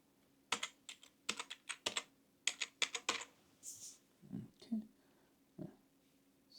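Someone types a password on a computer keyboard while setting up Tenable Nessus 10.11.1 on Kali Linux, a quiet, close scatter of distinct key clicks followed by a few softer taps and faint sounds.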